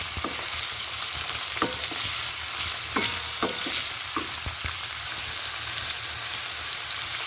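Chicken pieces fry and sizzle in a pan with cumin, a steady hiss of hot oil with occasional clinks and scrapes of stirring, close and continuous.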